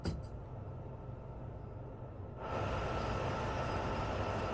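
An MTK-64 train rolls past in the Boston–Providence train simulator game, with an SD70ACE locomotive nearby. A steady rail rumble swells suddenly louder and fuller about halfway through, then holds close and constant.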